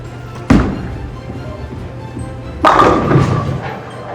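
A bowling ball is thrown down the lane at a bowling alley, a heavy thud at release followed about two seconds later by a loud clattering crash as it strikes the pins.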